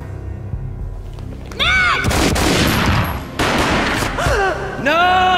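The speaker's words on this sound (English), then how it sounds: "A gunshot boomed and she fell down in slow motion." Heavy gunshots from the action video game Max Payne boom over a rumbling, cinematic soundscape, with several loud, reverberant blasts and swooping slow-motion sweeps filling the scene.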